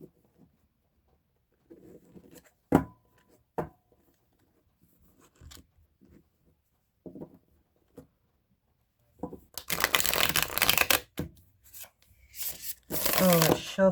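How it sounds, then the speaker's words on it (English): A tarot card deck being shuffled, giving bursts of dense riffling and flapping card noise in the second half after quieter scattered handling clicks and soft movements, close to the listener. "Oh, it shuffles so beautifully."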